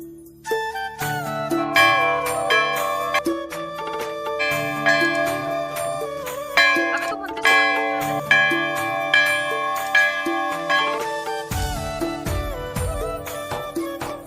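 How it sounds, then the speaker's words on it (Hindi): Many bells hang along the path to the Ghorakhal Golu Devta temple, ringing in dense, overlapping metallic strikes that keep going throughout, loud and close. "मंदिर के पूरे रास्ते में चारों तरफ घंटियां लगी हुई है यहाँ पे, इधर भी और बीच में भी"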